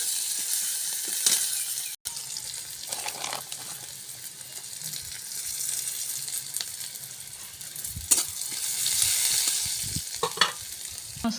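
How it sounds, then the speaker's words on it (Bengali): Onions frying in oil with black cumin in a kadai, a steady close hiss with occasional stirring scrapes and brief clatters, no voices. "পেঁয়াজ ভাজা ভাজা হয়ে গেছে"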